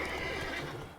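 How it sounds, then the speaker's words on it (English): A wild horse in The Witcher 3 gives one short, faint whinny, heard alone without talk. "Oh, wild horses."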